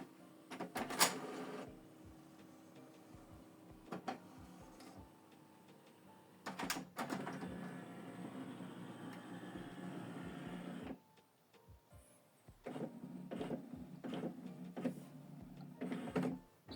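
Mechanical clicks and whirring from an HP Deskjet 4130e inkjet printer powering up, with bursts of motor noise and clacks separated by quieter pauses, fairly close.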